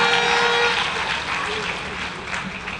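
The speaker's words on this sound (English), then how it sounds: "One last round of applause." Graduation audience claps steadily at a University of the West Indies ceremony presenting Teachers' Colleges of Jamaica graduates, a dense, even wash of applause close and continuous throughout, with a voice faintly mixed in.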